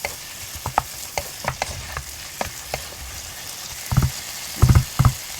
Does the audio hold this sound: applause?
no